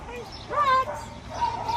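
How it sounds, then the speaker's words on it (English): A small dog gives a couple of short, high yips and whimpery barks, moderately close, with faint background noise. "So he has to learn to bark in Dutch"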